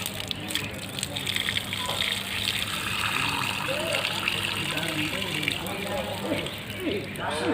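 Water gushes steadily into rice being prepared for pulagam, a continuous nearby pouring sound, while someone talks over it.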